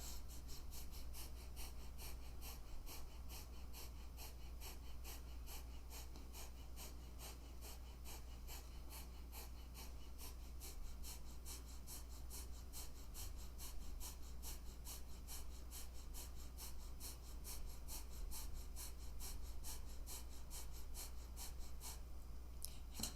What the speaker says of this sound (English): just take a big deep breath and then pick up the breath of fire again